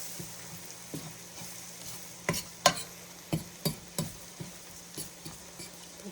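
Sausages fry in butter in a pan with a soft steady sizzle, broken by a series of sharp clacks and scrapes as they are turned and stirred.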